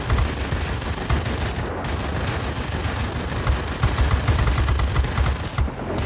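Aircraft machine guns in the World of Warplanes video game fire in rapid, repeated bursts, a dense crackling rattle over a continuous engine roar.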